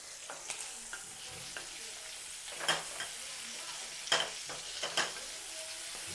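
Garlic and chili flakes fry in butter in a pan, a soft steady sizzle broken by a few sharp spitting pops and stirring scrapes, close by with no talk.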